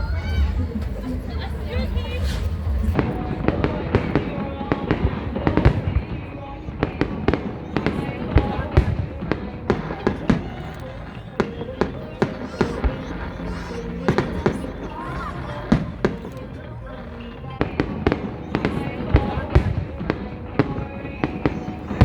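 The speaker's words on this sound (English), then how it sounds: "Not even entirely sure where the fireworks are going to come up" Fireworks burst over Loch Lomond in a rapid, irregular barrage of loud bangs and crackles, with a crowd chattering and murmuring underneath throughout.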